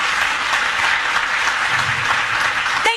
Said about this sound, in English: if we could have a huge round of applause